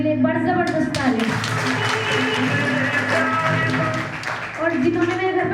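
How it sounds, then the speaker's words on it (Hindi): An audience applauding at a company training event, a steady burst of clapping from a crowd that rises and fades over a few seconds, with speech around it. "सेजिका नौजी के लिए बड़ा जबरदस्त ताली।"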